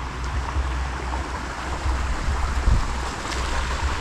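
Steady rushing water of an irrigation stream feeding onion fields, a continuous broadband wash with low rumble, fairly close and unbroken, no voices.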